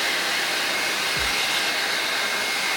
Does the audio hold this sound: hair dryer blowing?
yes